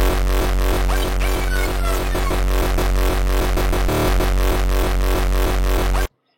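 A dense electronic mix with static reverb, no sidechain automation, lingering evenly under the beat, never ducking or pumping, running continuously until it stops abruptly.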